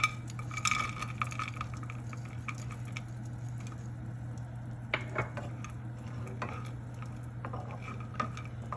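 Raisins roast in a spoonful of hot ghee in a small pan, with a soft steady sizzle, light stirring scrapes and occasional metal clinks of a spoon against the pan, close and fairly quiet.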